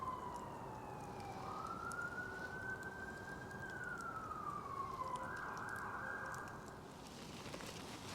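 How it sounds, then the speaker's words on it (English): An ambulance or police siren wails in a long rising and falling tone, faint and distant behind steady broadband noise at a woodland tarp camp. "the sirens come on from an ambulance or a police car"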